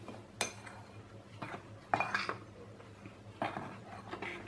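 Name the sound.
dry rice flour being mixed by hand in a bowl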